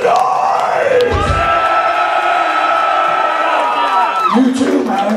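Concert crowd at a metal show shouting and cheering, with long sustained yells and whoops swelling together, loud and close, then briefly dipping before more shouts.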